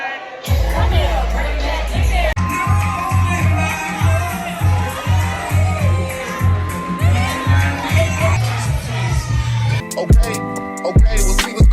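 A packed restaurant crowd at a brunch responds to a call with a loud, sustained wave of cheering and shouting over thumping music. The roar carries on for several seconds, then breaks into scattered whoops and bangs.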